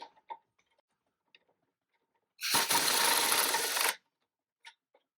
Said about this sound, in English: So let's kind of get going with the torque wrench